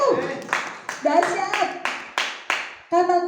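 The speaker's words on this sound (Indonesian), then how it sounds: "Tepuk tangan untuk Tuhan Yesus." A church congregation claps loudly in a series of sharp, roughly evenly spaced bursts. A speaker's voice is heard between and over the claps.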